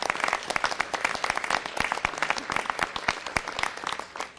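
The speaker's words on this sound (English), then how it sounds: "Let's give them all a round of applause for their volunteerism." Audience applause for volunteers at a city council meeting, a steady dense clapping from a sizable crowd held for several seconds at close range.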